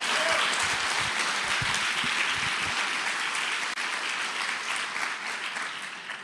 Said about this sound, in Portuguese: Aplaudir a Jesus.